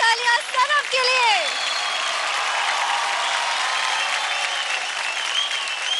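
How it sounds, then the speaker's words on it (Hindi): Loud, sustained audience applause for a contestant named Sanam on a televised dance competition stage, with a brief voice at the start before steady clapping fills the hall. "जोरदार तालियां सनम के लिए।"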